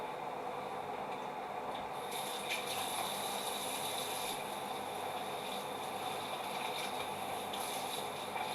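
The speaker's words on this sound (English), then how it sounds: "let me just wash my hands, I'll be back" Hands washed under a running kitchen tap during home cheese making, a soft continuous flow of water heard faintly and steadily with no speech.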